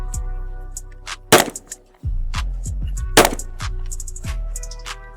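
Shots fired close by from a Fusion XP Pro with a ported barrel at an outdoor range, two sharp loud cracks about two seconds apart, each trailed by echoing reports, with a low hum underneath.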